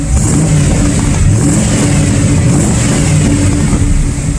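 A 1994 Chevrolet Caprice Classic with an LT4 engine revs hard, heard from behind the car: a loud, continuous engine roar that holds steady for the whole stretch with no voices.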